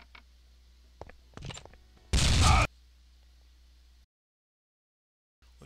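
Gunfire in a first-person shooter match, a few quick sharp shots followed by one loud burst, then near silence.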